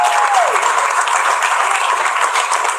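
An audience at a stand-up comedy show applauds in a steady, dense wash of clapping that lasts throughout, with a short vocal sound at the start.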